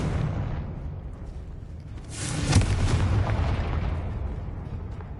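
A Confringo spell goes off in Hogwarts Legacy, a fiery blast bursting out midway over a constant rumble of game ambience, with a broad noisy swell that fades slowly.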